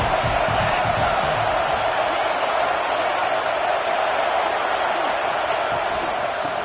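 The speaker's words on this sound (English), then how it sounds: "this crowd is turning it up a notch." A large football stadium crowd in a video game roars steadily, a dense continuous wall of cheering that stays loud throughout without pause.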